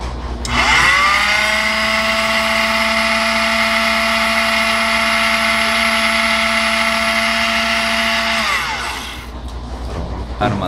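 A lens edging machine cuts a resin lens with a loud, steady high-pitched motor whine that holds for several seconds and then winds down, leaving a quieter mechanical hum at the end.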